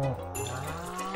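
A short cow moo from the farming video game Stardew Valley, a low, slightly wavering call lasting about a second over a soft background.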